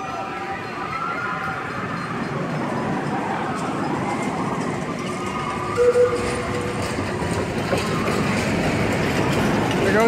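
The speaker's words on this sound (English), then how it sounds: "There goes the train." A Wonder Woman Golden Lasso roller coaster train at Six Flags Fiesta Texas rumbles along its track with rising clatter at a moderate distance, mixed with park ambience and faint crowd voices.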